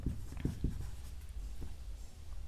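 Pen or chalk writing during a maths lesson, a series of short scratchy strokes in quick bursts, close and faint against a quiet room.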